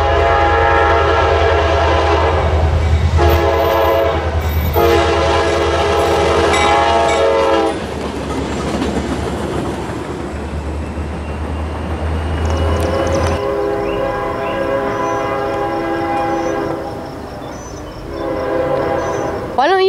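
A train with three engines rumbles past close by, its horn blaring in long blasts, with rolling wheel clatter and a deep engine drone underneath.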